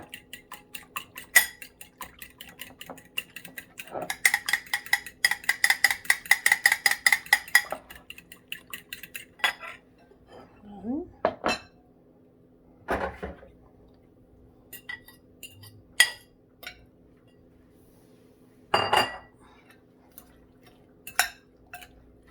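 Utensil scraping and clinking in a bowl while mixing wild coral mushroom omelette ingredients, a fast rhythmic burst of ticking taps followed by scattered sharper knocks and clinks, close and fairly loud, with no talking.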